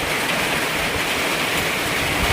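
Rain falls as a dense, steady hiss that never changes or breaks. It sounds close and fairly loud, with no other sounds standing out.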